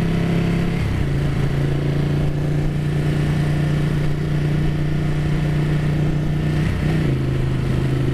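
A Ducati 959 Panigale sport motorcycle engine drones steadily and close while being ridden, its pitch dipping briefly near the start and again toward the end.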